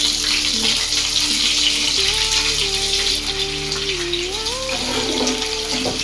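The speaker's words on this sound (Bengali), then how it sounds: "তেলটা গরম হয়ে গেছে, এবার ওই তেলেতেই পেঁয়াজটা দিয়ে দিই।" Onions sizzling in hot oil in a kadai, a steady loud frying hiss throughout, with a faint melodic tone running underneath.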